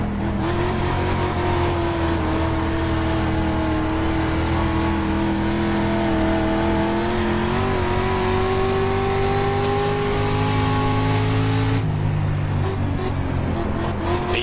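Race car engine in a racing video game revving loud and steady at close range, its pitch climbing and holding, with a sharp shift in tone near the end, no voices over it.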